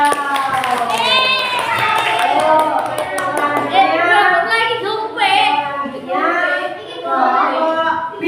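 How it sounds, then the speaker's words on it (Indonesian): Applause for the green group in an Indonesian classroom, scattered clapping heard under children's lively chatter and voices, with rapid hand claps at the start and intermittent taps continuing beneath the talk. "tepuk tangan buat kelompok hijau"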